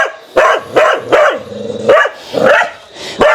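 An angry dog barks repeatedly at close range, about seven loud sharp barks in an uneven rhythm with short pauses between them, with no talking.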